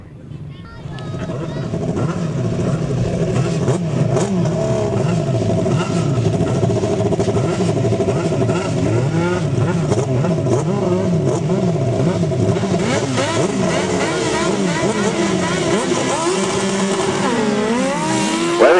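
Grasstrack sidecar outfits racing at Bewdley, three machines roaring and revving continuously with rising and falling engine pitch, loud and sustained, while a commentator talks over the racing.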